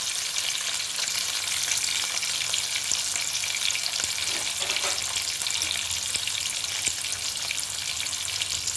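Tomatoes frying in a pan while cooking chicken biryani with chittimutyalu rice, giving a steady, dense sizzle that holds evenly throughout, close and fairly loud, with faint stirring scrapes and no talking.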